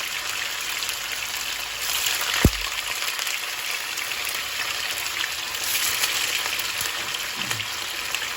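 Tofu frying in a pan gives a steady, close, loud sizzle with a bright crackling hiss throughout. A single soft knock comes partway through, and no one speaks.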